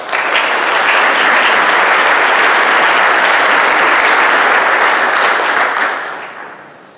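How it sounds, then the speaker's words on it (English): Sustained audience applause fills a symposium hall on remote sensing, dense steady clapping from many hands held at full strength before tapering off near the end. "I ask you for a warm applause for them."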